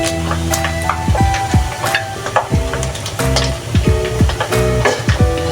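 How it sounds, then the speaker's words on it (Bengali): Hilsa fish pieces frying in oil for a pickle crackle and sizzle loudly and up close, with repeated stirring scrapes and clatter against the pan throughout. "আমি কিন্তু এখানে মাছটা দুভাগে ভেজে নিচ্ছি"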